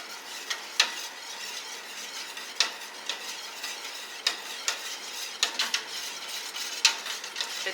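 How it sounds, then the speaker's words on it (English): Essential oil being whisked into cold process soap batter, a quiet swishing stir punctuated by repeated light clicks of the whisk against the container, close and without speech. "I'm going to just stir in my essential oil"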